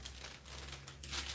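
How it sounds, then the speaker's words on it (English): Greaseproof paper is crinkled and handled close by, with soft papery rustles over a low electrical hum, quiet and brief. "So this is just greaseproof paper."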